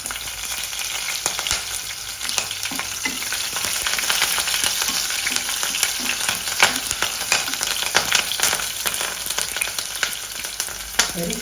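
Green chillies and ginger sizzle steadily in hot oil in a pan, a continuous crackling fry with occasional sharper pops and stirring scrapes, close and even throughout.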